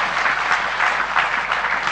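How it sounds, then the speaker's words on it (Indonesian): Audience applause at an evening gathering of students and guests, a dense, loud, steady clapping that fills the whole moment without pause. "Pak Kiflan Zain, saya mohon Anda tepuk tangan semua untuk cinta dan perkenalan kita pada malam hari ini"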